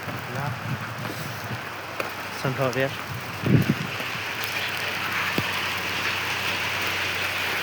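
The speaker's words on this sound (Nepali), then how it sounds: "यत्रो ठुलो पानी परिरहेको छ कि" Heavy rain falls during a bike ride as a steady, close wash of hiss beneath a man's brief speech and a few short bumps.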